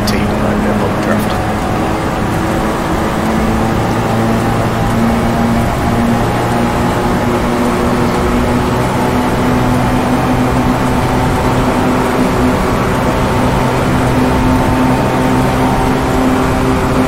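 Racing Mini engine at the Goodwood Revival, a loud, sustained droning hum with steady tonal harmonics that holds throughout with only slight pitch shifts, close and continuous.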